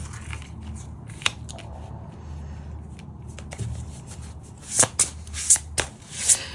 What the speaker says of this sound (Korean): 카드를 뽑아보도록 할게요